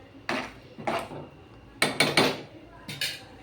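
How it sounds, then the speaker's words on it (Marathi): Metal lid set onto a pan of pav bhaji, producing several sharp clinks and clatters in uneven succession, close and fairly quiet between impacts. "बघा, आता याच्यावर झाकण ठेवते."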